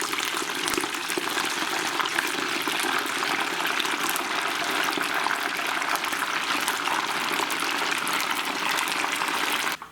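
Hot oil in a pot, ready for frying chicken wings, bubbles and crackles in a dense, continuous hiss that stays loud and close throughout.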